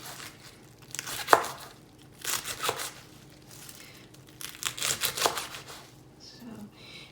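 Knife chopping fresh herbs on a cutting board for Vietnamese vegetarian sweet and sour soup, several bursts of quick rhythmic cuts with brief gaps, close by, while a voice talks.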